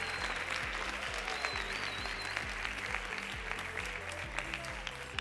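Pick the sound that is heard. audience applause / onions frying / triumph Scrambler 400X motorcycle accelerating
audience applause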